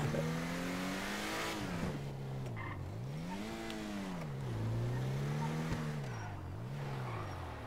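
Ubermacht Zion Classique driven in a video game, its engine note rising and falling steadily through several rev swells, continuous and fairly close with no talk.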